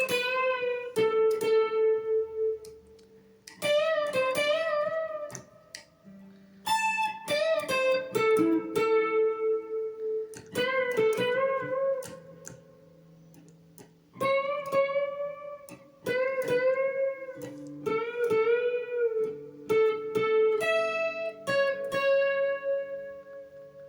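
Clean electric guitar plays a solo, a lively run of plucked single notes and bends with steady rhythm, close and alone without talk.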